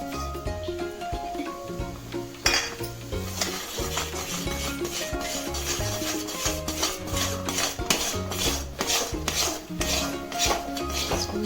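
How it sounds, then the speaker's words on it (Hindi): Buckwheat flour goes into a pot of boiling water and gets stirred, with repeated metal clinks and scraping of a spoon against the pot over steady rhythmic rubbing, close and busy without speech. "अब हम इसी में आटा को डाल देंगे।"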